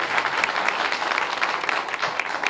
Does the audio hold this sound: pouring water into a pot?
no